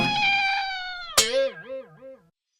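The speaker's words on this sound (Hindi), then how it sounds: "चाचा चौधरी और चंपत की बिल्ली।" Champat's cat, a cartoon cat from a Chacha Chaudhary comics story, gives a long, steady meow, then a sharp, louder yowl that trails into a wavering, warbling meow before fading out.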